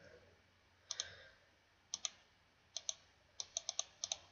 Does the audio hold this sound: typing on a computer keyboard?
yes